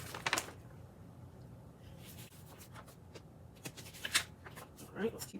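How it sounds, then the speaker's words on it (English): Tarot cards being shuffled by hand during a reading, with soft riffling and sliding bursts at the start and near the end, quiet and close, between stretches of near silence. "All right, let's keep shuffling."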